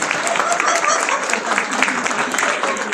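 An audience claps continuously, a moderate wash of hands with some cheering voices mixed in, fairly close.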